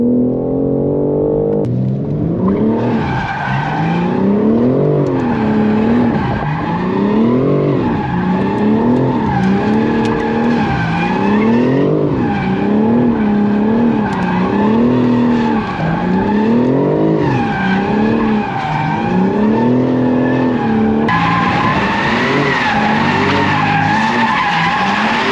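BMW M4 G82 Competition drifting with its tires squealing loudly and skidding in long repeated wavering screeches, engine roaring underneath, close and continuous.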